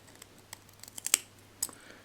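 Scissors snipping coil wick fibre flush against a dual coil build, a few small close clicks and snips, quiet, with faint handling noise between cuts.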